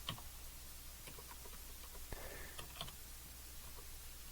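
Typing on a computer keyboard, with quiet, irregular key clicks in a soft run and an occasional firmer tap, faint against low background hum and no talk.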